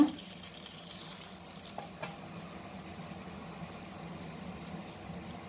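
Heated oil poured over a fish curry with curry leaves sizzles and crackles in a steady, soft hiss, with a faint clink at the start and a few small pops.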